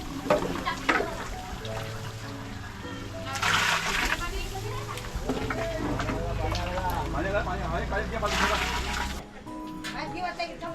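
Cooked dal is poured into a large pot for a village Haldi meal, with bursts of splashing and sloshing liquid while people talk nearby.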